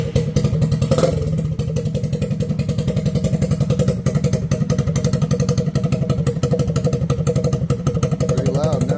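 A Chonda BD-125 X25 cafe racer motorcycle engine runs close by with a fast, even thumping idle and a loud rattling pulse that holds steady throughout, with a brief clatter near the start.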